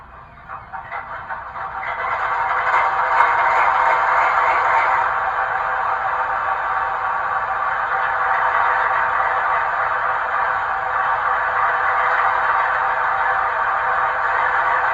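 An Aristocraft PA model locomotive's sound started through a Zimo decoder: a soft rumble builds over the first couple of seconds, then settles into a steady, even engine drone that runs on unbroken.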